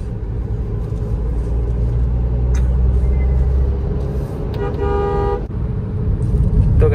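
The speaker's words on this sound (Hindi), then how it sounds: "अभी हाईवे पे ट्रैफिक जाम हो चुका है, इसकी वजह से ट्रैफिक लगा था यार" Highway traffic jam, a loud continuous rumble of idling and creeping vehicles with a long steady car horn blast near the end and another brief toot, close and dense.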